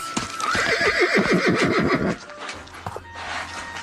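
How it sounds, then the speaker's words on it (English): A horse lets out a loud, wavering neigh up close, followed by a few hoof clops and quieter rustling afterward. "I see the horse. No, I hear it."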